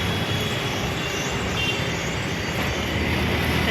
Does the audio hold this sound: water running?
no